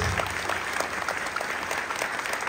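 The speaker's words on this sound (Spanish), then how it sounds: "Fuertes aplausos, Rey de Reyes, el Señor de señores." Congregation applause at a Catholic healing and deliverance service: dense, even clapping from many hands holds steady throughout, fairly soft and somewhat distant, with no talk over it.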